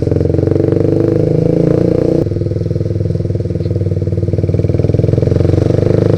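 A modified Suzuki GSX-R150 motorcycle idles with a steady close engine note, then revs and pulls away, its rapid pulsing exhaust loud and continuous throughout.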